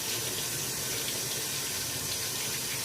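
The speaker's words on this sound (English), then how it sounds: "So let me wash my hands" Water runs steadily from a kitchen tap while hands are washed beneath it, a constant close hiss and splash with no talking.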